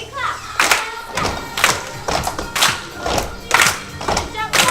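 Children at a summer camp clap in a steady rhythm, several sharp claps about every half second, close and loud amid group movement and thuds.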